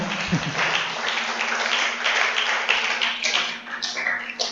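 Church audience clapping together, a dense sustained patter of many hands with faint voices mixed in, fairly close and steady before tapering slightly near the end.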